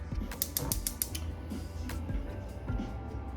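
Kitchen stove knob being turned on, a quiet series of rapid mechanical clicks and ticks with a creaking ratchet quality, repeating in short bursts.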